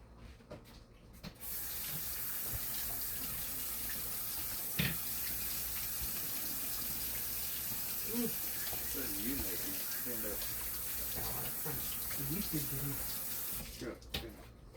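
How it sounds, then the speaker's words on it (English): Tap water running steadily into a kitchen sink for hand washing, a continuous close splashing stream that stops near the end, with someone speaking briefly over it. "I'm gonna wash my hands."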